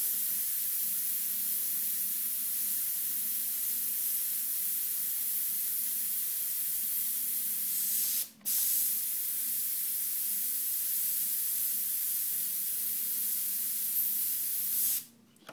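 An airbrush spraying paint onto wood hisses in long continuous bursts, close and steady, broken by two brief pauses.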